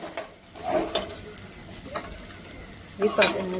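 Soft frying in a kadai with a few scraping strokes of a spatula, close and intermittent, the last stir louder than the rest.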